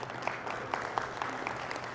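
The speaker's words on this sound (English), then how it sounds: "give him a little round of applause" Audience applause at a business conference on automation, a steady patter of clapping at moderate level for about two seconds, with no talk over it.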